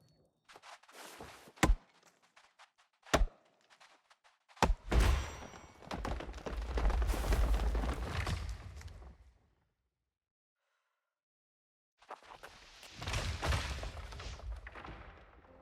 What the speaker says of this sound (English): It is the sound of chopping a tree in New World.